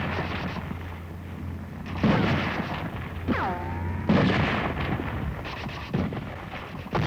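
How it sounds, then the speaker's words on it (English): Heavy gunfire and booming blasts echo through the streets of Seoul during Korean War street fighting as Marines and U.S. 7th Division troops advance, loud irregular reports in an old newsreel soundtrack. "These are Marines and U.S. 7th Division troops advancing into Seoul under enemy fire."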